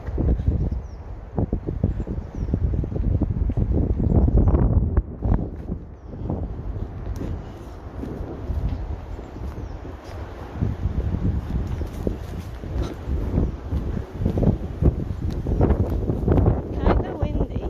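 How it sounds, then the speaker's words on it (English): Outdoor wind buffets a microphone, a continuous low rumbling roar that surges and dips throughout, with a person talking intermittently over it. "Kinda windy."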